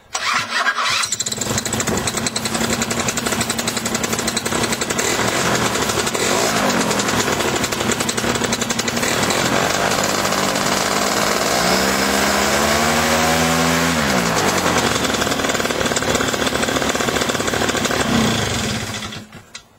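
A Simonini paramotor engine cranks on its electric starter, catches, and runs loud and close for most of the stretch, its pitch rising and falling with the throttle before cutting off at the end.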